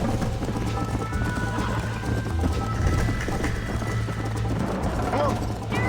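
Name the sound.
galloping horse hooves and whinny in the video game Red Dead Redemption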